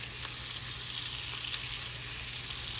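Shrimp sautéing in a skillet, a steady even hiss of sizzling oil with faint pops, close and constant with no talking over it.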